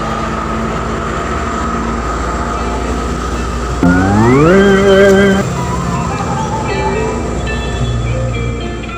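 A train rumbles steadily close by, and a rising whine from the engine or brakes swells briefly in the middle before fading back into the rumble.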